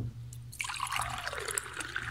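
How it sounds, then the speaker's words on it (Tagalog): Water poured into a glass at a family meal, starting abruptly as a bright, splashing trickle that runs steadily and close for over a second. "Hingi nga ng tubig, Danica."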